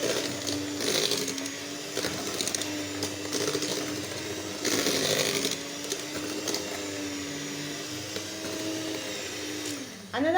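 Electric mixer creaming vanilla cake batter in a large bowl, a steady motor whir running throughout with brief louder surges and scraping bursts, close and continuous with no talking.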